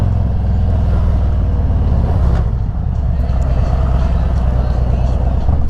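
An M8 Road King FXR with a fairing cruises at about 60 mph, its engine a loud, steady low drone blended with wind roar, continuous throughout, with a voice faintly under it.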